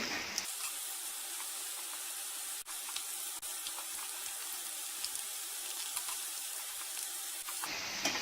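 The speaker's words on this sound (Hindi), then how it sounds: "इनको हल्का ब्राउन फ्राई करना है।" Potatoes deep-frying in hot oil, a steady, fairly quiet bubbling sizzle with fine crackles that runs continuously before cutting off near the end.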